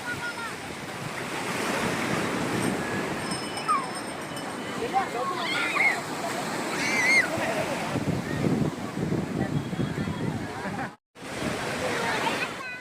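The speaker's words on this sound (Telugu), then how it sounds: "అలా ఈవినింగ్ బీచ్కి వెళ్ళాం" Ocean waves surge and wash onto an evening beach, mixed with gusty wind buffeting the microphone, loud and continuous, while people talk nearby and a brief dropout cuts the sound near the end.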